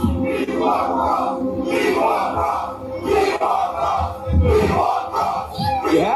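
A wrestling arena crowd roars and chants loudly and continuously, voices rising and swelling in waves, with a big surge near the end.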